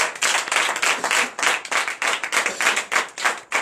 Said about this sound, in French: Donc je vous demande d'applaudir encore très fort.